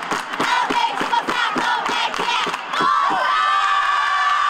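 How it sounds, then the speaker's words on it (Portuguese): A warm crowd cheers and shouts in support of gymnasts at a competition, loud rhythmic claps and whoops giving way to a sustained roar of cheering voices. "a torcida calorosa mostrava o apoio às ginastas"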